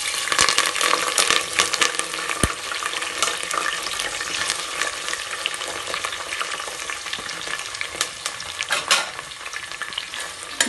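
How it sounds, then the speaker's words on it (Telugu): Onions and green chillies frying in hot oil on a stovetop, a continuous loud sizzle with occasional stirring scrapes and clinks, no voices. "ముందుగా ఉల్లిపాయ పచ్చిమిరపకాయ వేసేసుకుందామండి"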